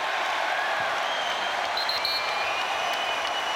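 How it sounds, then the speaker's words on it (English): An Adelaide basketball crowd fills an arena with steady, broad applause and cheering, a constant hissing wash of clapping and noise heard from a distance, with occasional whistle-like tones on top. "what about the noise being made here by the Adelaide crowd?"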